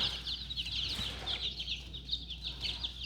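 A flock of young chicken chicks keeps up rapid, high-pitched peeping and cheeping in quick overlapping bursts, moderately close, over a low background hum.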